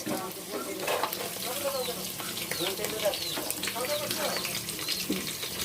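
Ginger, garlic and onion spice paste fries in a pan for a spicy beef curry, a close, steady crackling sizzle with spoon stirring sounds running throughout.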